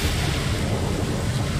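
Continuous broadband wash of ocean surf in the sailing game ATLAS, a steady loud rush of waves and wind with no break, heard alone without talk.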